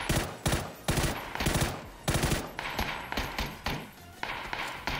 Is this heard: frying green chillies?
no